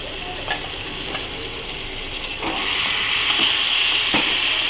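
Tilapia fish and potatoes frying in a spice masala in a pan, giving a steady close sizzle that swells louder midway, with a few soft clicks of stirring and no voices.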